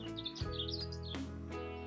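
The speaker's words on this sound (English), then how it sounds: "Actually, it's a robin." A robin sings in a garden on an early spring day, its high warbling phrases faint above a steady tonal hum that dominates the scene.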